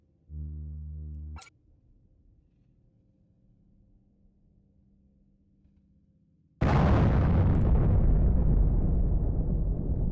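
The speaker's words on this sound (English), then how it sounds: "It blew up. I guess that's what that noise was." Ship explosion in the space game EVE Online: after a short tone and a quiet hum, a sudden loud broadband blast erupts and sustains as a roaring, slowly fading rumble to the end.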